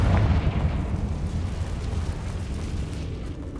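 Confringo fire spell exploding in Hogwarts Legacy, a loud deep blast that rolls on as a sustained low rumble and slowly fades.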